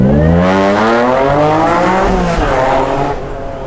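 A supercharged Acura NSX accelerates hard with a rising, high-pitched supercharger whine layered over the engine's climbing roar, loud and close throughout.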